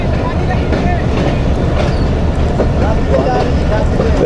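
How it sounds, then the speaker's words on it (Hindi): The Khushhal Khan Khattak Express pulls into Attock City Junction railway station, a loud, steady rumble of rolling rail cars with clattering wheels filling the whole stretch. "6:10 पे ट्रेन अप्रोच कर रही है अटक सिटी जंक्शन रेलवे स्टेशन पे"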